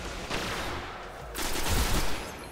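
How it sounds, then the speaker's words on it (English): Sniper rifle fire in the video game Destiny, a couple of sharp loud cracks with rolling echo over a steady background rumble. "That sniper rifle is pretty damn awesome."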